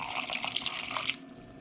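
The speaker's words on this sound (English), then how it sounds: "just do about ½ a cup of water. Go ahead and pour that in there." Water poured into a pot of homemade chili, a short close splashing stream of about half a cup that stops abruptly after a second, with no talk.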